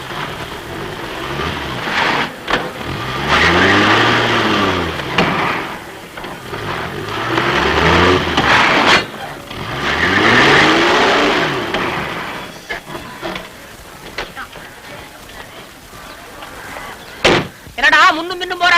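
A car engine revs in repeated surges as the vehicle shunts forward and back, with door-like thumps, a slam and voices talking around it in a comedy scene.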